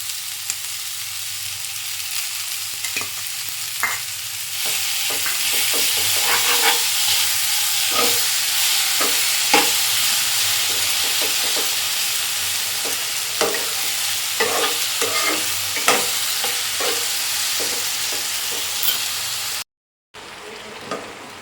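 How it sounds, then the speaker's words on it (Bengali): Amla (Indian gooseberry) pieces fry in a pan, with a steady sizzle and hiss broken by scraping spatula strokes as the fruit is stirred with jaggery. A brief silent gap comes near the end before the sizzle returns. "আমলকিটা ভাজা ভাজা হয়ে এসছে, এবার আমি এতে কিছুটা গুড় দিয়ে দেবো"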